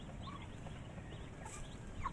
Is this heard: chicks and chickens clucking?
yes